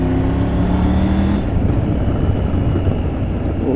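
A Triumph Tiger 900 GT adventure motorcycle accelerating in fourth gear, its engine rising in pitch then giving way to loud rushing wind noise as speed builds, close and steady.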